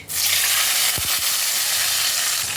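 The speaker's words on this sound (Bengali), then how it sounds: "ফোড়ন থেকে একটা সুন্দর গন্ধ বের হতে আরম্ভ করলে এর মধ্যে আমি দিয়ে দিচ্ছি তৈরি করে রাখা মশলার পেস্ট" Spice paste hitting hot oil after tempering for Kashmiri stuffed aloo dum, a sudden strong frying hiss with a few low thuds as it lands, then a steady close sizzle.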